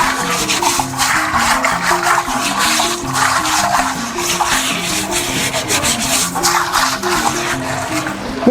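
An African earthen clay pot is washed by hand, with continuous close scrubbing and rubbing against the wet clay surface in a steady, slightly rhythmic pattern, loud and alone without talk.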